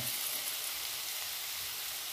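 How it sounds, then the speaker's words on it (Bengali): Cabbage frying in a pan with a little sugar sprinkled in, a faint but steady hissing sizzle that stays even throughout, with no talking. "একটু হালকা করে ভেজে নিয়েছি, এবার চিনিটা অল্প করে ছড়িয়ে দেবো, দিয়ে ভালো করে ভেজে নেব।"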